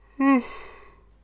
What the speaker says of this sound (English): Have to yawn too much